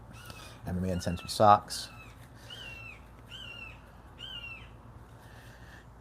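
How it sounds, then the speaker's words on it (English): A bird caws and squawks loudly from a tree outside, several harsh calls in a cluster early on and fainter repeated calls after, under someone talking indoors. "Not much you can do about a bird in a tree."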